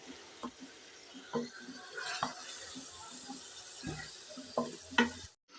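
Turmeric, green chili and tomato frying together for aloo gosht, with a faint sizzle under scattered scrapes and knocks of stirring, ending in a short sharp clatter.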